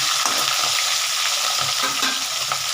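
Tilapia pieces frying in hot oil in a pan, a dense continuous sizzle with occasional stirring clatter, loud and close with no voices.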